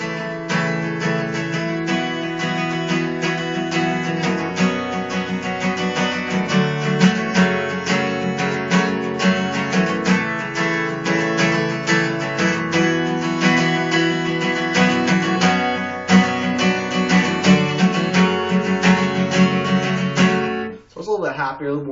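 Guitar strumming a chord progression in a major key, steady and full, with continuous rhythmic strokes for about twenty seconds before stopping abruptly, no talking.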